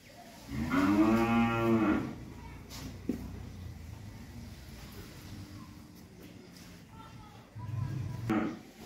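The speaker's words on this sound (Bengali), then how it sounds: "এই হলো আমার আজকের 6 নাম্বার হলিস্টিয়ান ফ্রিজিয়ান বকনা বাছুর" An 11-month-old Holstein Friesian heifer calf on a farm lets out two loud, close moos, one long and one shorter, with quiet farmyard background between them.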